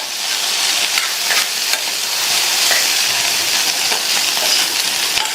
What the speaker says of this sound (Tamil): சேர்த்துட்டு எல்லாம் ஒன்றா மிக்ஸ் ஆகிற மாதிரி நல்லா கலந்து கொடுத்துருங்க.